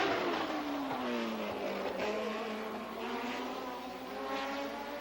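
Race cars on the 1992 Trans-Am Mosport street course, a continuous loud engine wail with rising and falling pitch as the cars pass, steady and unbroken with no talk.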